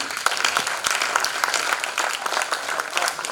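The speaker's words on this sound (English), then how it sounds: "give them the sounding clap" An audience claps for a panel at the close of a diplomacy master class, a loud sustained round of many hands with scattered sharper claps standing out, close and unbroken.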